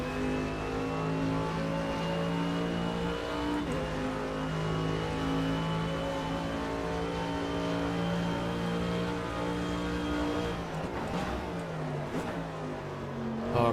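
A GT3 race car engine runs loud and close, its steady, rich drone shifting pitch slightly as revs rise and fall across the whole stretch, with a brief change near the end.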